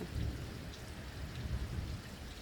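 Steady rain falls continuously, a dense hiss of drops spread evenly throughout with no voices, during a thunderstorm.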